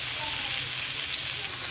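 Okra (ladies' fingers) stir-frying in a pan, a steady bright sizzle that holds evenly throughout, close and fairly loud with no voices.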